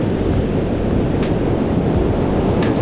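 Steady, loud roar of ocean surf breaking at Pipeline, heard continuously and close, with a dense rushing wash and faint bright spray hisses recurring throughout; no voices.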